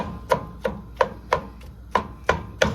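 Mixed berries mashed in a cooking pot, eight soft, wet squelching presses at a steady rhythm, close and clear with no talking.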